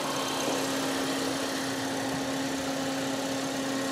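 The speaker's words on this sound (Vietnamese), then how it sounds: "Tiếng máy nổ rất êm." A Toyota Vios engine idles steadily and close, an even hum with a constant tone and no talking.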